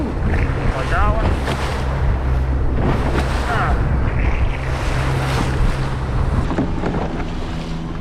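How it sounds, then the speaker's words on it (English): Big waves in a bay slap and surge around a small 17-foot boat, with a constant loud wash of water and heavy wind buffeting the microphone throughout, and a voice briefly heard over the roar. "some of these waves are big out here in the bay"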